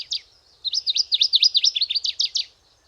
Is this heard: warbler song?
yes